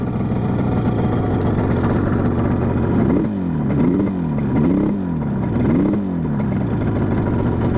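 A 1974 Yamaha RD 350 two-stroke motorcycle idling at about 2000 rpm, a loud, steady, buzzy engine note close by, with a few rhythmic dips and swells in the second half.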